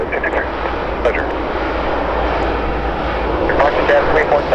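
A jet airliner climbs out after departing Vancouver YVR airport, its engines a broad, steady roar heard from fairly close. A voice talks over the engine noise.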